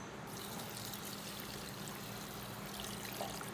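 Water is poured from a glass into a grapefruit and beetroot juice mix, making a steady, continuous stream and trickle that runs close and alone for several seconds.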